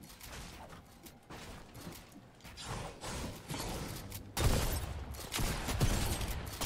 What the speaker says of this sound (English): What would she just hit me with? With makeshift shotgun?